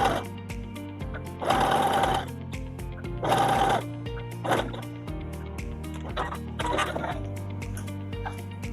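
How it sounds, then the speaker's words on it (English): A sewing machine stitches a zipped cushion cover at a long 5 stitch length, running in several loud bursts of rapid, steady needle chatter separated by short pauses and lighter handling noise. "I'm going to increase that to 5 stitch length, and you don't need to back stitch on this one."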